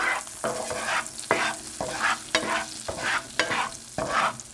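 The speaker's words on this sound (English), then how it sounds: "So I don't want to burn the spices, so I'm gonna stir it a little bit." Spices are stirred through hot frying oil for Indian butter chicken, with about half a dozen rhythmic scraping strokes over a steady close sizzle and no talking.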